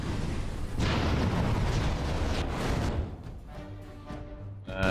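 A loud explosion in the fantasy role-playing game Dragon Age: Origins fills the first three seconds with a dense, sustained roar, then gives way to a fading rumble and lower game sounds.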